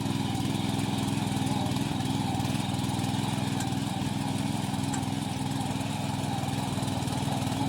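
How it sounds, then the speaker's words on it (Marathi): Power weeder engine running steadily at a constant idle, a loud continuous droning putter close by outdoors, with no talking. "पॉवर विडा चालू केल्यानंतर आम्ही त्या मशीनचा डेमोसुद्धा घेतला"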